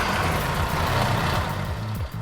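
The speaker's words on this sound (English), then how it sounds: "You hit the key once and it starts." A Mercedes car engine runs close up after starting with one turn of the key, with a deep, steady, throbbing rumble and a broad mechanical whir.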